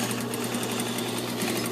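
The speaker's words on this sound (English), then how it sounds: "And I'm stitching through both of the seams." Sewing machine stitching through both seams of a jacket hem lining, a steady close mechanical whir with fast even needle pulses running throughout, no talking.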